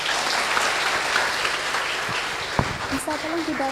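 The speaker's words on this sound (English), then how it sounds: "let's give applause for Mr." Audience applause at a talk on culture and mental health, a steady wash of clapping that runs until a voice begins speaking near the end.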